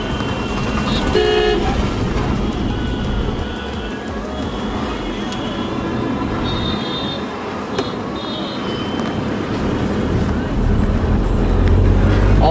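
Busy road traffic rumbles nearby with engines and scattered car horn toots, heard from inside an Isuzu D-Max V-Cross 4x4 pickup on a test drive, while a voice talks over the noise throughout.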